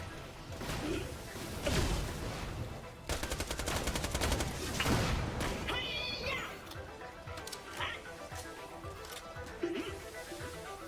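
Rapid gunfire from shooting in Borderlands, bursts of quick shots crackling through a busy game mix, fairly quiet overall with other effects layered around them.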